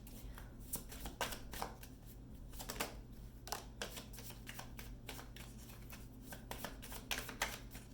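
Playing cards being shuffled in repeated riffling bursts, crisp and close, over a steady low hum, with no talking.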